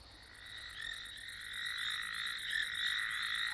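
Foam nest frog croaking in a steady, continuous chorus of rapid rasping pulses, moderately close and unbroken by any voices.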